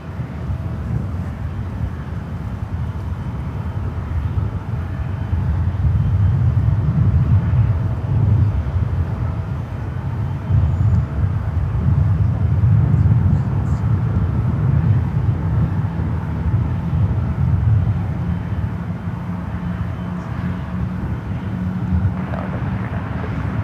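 JetBlue airliner at San Francisco airport, heard as a steady low rumbling roar that swells in the middle and holds for about twenty seconds, with some wind noise and no talk.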